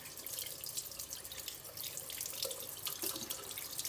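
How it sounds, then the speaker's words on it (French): Running water from a sink tap hisses and splashes steadily, close and moderately loud, as a deer ear is rinsed under the flow, with no talk. "On rince, on rince, on rince."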